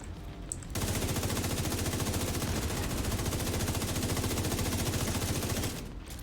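A whole magazine is emptied in The Division 2, rapid automatic gunfire hammering out in an unbroken, even stream for about five seconds before cutting off.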